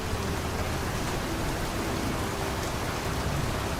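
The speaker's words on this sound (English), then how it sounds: "The rain is so fucking loud." Steady, loud rain ambience from a video game fills the whole stretch, a dense wash of falling rain with no letup and no voices over it.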